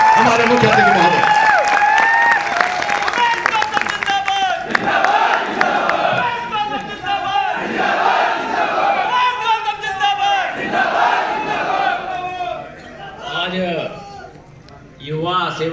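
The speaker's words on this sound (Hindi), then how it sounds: "डॉक्टर उमेश गौतम जी, जोरदार तालियों के साथ स्वागत हमारे मुख्य अतिथि महोदय।" Large crowd at a Yuva Sevak Sangh meeting in Faridpur cheering, shouting and clapping to welcome chief guest Dr. Umesh Gautam, a loud continuous roar with an announcer's voice over it, thinning out near the end.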